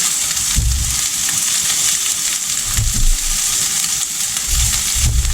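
Broccoli fries in a pan with bacon in a loud, steady sizzle, broken by a few clattering stirs and soft thumps, with no talking.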